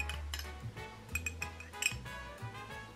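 A metal spoon clinks and scrapes against a dish while scooping up a pile of cooked bugs, producing a run of light, bright taps and tings close by.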